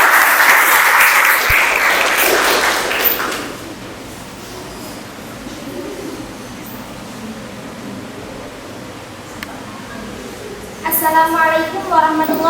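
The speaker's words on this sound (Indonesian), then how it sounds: "Beri aplaus untuk kelompok 3." Classroom applause for a student group, a loud burst of clapping from many people at the start that fades after a few seconds into room noise, with voices talking later.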